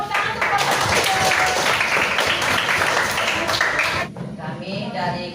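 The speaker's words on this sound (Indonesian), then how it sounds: "Tepuk tangan untuk Bapak." A school class applauds after a group presentation on Indonesia's religions, bursts of mixed, uneven clapping from a roomful of students that stop abruptly partway through, leaving quieter room sound.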